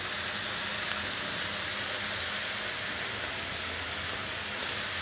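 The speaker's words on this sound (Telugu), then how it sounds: "ఇప్పుడు ఇలా ఉల్లిపాయలు వేగుతున్నాయి" Onions frying in a pan for egg masala curry gravy, a steady loud hiss and crackle of oil that stays constant throughout, close and unbroken, with no talking.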